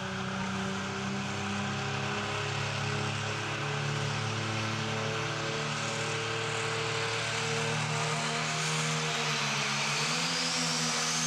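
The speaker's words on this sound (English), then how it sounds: "We're starting with the Pro Stocks. The highest horsepower diesel machines we have in the sport." A Pro Stock high-horsepower diesel pulling tractor runs at full power at a Great Eccleston tractor pull, a sustained droning engine roar that holds steady throughout, with no voices.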